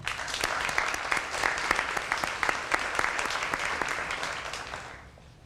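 An audience at a formal dinner applauds a performing group with steady, crowded clapping that carries evenly for several seconds and then fades out near the end.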